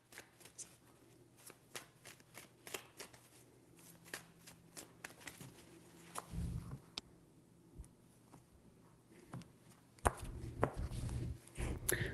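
Tarot cards shuffled by hand during a reading, giving repeated crisp riffling bursts and soft taps spread across the clip, with a louder, denser shuffle near the end, fairly close and with no talking.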